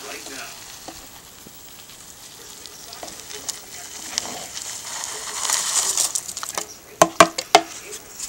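Live mealworm beetles are tipped into a container of oats, making soft rustling and light pattering that builds into sharper, crisp crackles toward the end.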